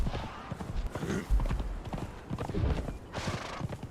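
Horse hooves clip-clop in the survival game Conan Exiles as a rhythmic series of hoofbeats with scattered thuds. The hoofbeats stay moderately loud and are heard without speech.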